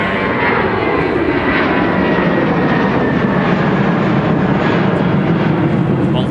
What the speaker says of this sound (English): we have the departures blasting off one after another